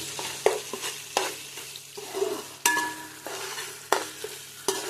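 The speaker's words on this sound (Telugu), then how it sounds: "గసగసాలు, ఎండు కొబ్బరి పేస్ట్ వేసుకోవాలి. ఎర్రగా వేగాలండి పేస్ట్ని." Poppy seed and dried coconut masala paste for prawn biryani fries in a pan, with a steady sizzle under repeated sharp scrapes and knocks of a stirring spoon against the pan, close and fairly loud.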